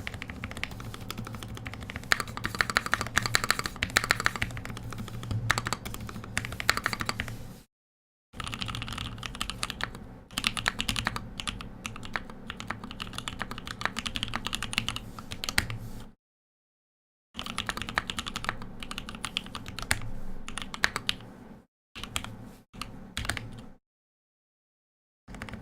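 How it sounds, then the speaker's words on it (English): A custom-built E6 V2 mechanical keyboard typed on fast and close, producing dense muted key clacks in long bursts separated by short silent pauses. "just kind of whacking away, typing at the 10 fast fingers"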